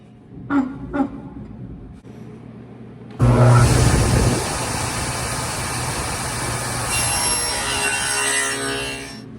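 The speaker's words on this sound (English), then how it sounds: "we're going to set the depth of our saw to about 1/4 of an inch" A table saw cuts a shallow quarter-inch groove into a plywood board, starting with a few light knocks before the blade bites in at about three seconds and roars loudly and steadily through the cut.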